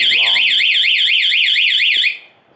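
An anti-theft alarm on a Honda Zoomer scooter blares a loud, fast warbling siren close by for about two seconds, then cuts off abruptly.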